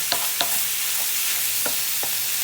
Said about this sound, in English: it takes longer for the mince to brown because the pan is full